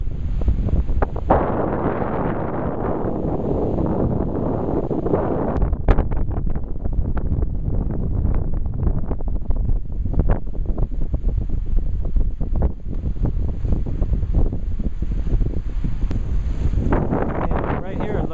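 Steady wind rushes and buffets an outdoor microphone at the end of the Missouri River near its meeting with the Mississippi, a loud continuous roar with gusty bursts, with faint water sounds around a paddler's boat.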